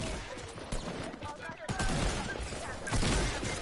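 Rapid automatic gunfire in the video game Fortnite, a dense stream of bursts running throughout, loud and close, with a player's voice talking over part of it.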